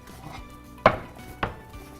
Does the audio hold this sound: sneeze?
no